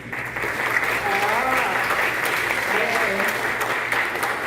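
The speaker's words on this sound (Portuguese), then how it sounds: "Só para a gente dar uma salva de palmas," At a closing session after afternoon lectures, an audience gives loud, sustained applause for a committee team, with voices calling out over the steady, close clapping.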